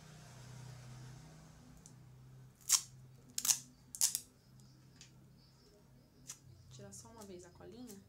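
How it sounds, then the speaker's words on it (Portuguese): Clear adhesive tape (durex) peeled off during cat-eye eyeliner makeup: a few sharp, brief ripping bursts close to the mic over quiet room hum, followed by faint rustling. "Deixa eu pegar outro durex, porque esse aqui já saiu a cola."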